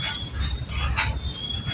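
A train at a railway station in Maddur, with steady rumbling rail noise and a thin high wheel squeal running through the short stretch, close and fairly loud with no voices.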